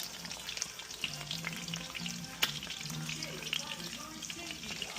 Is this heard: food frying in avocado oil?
yes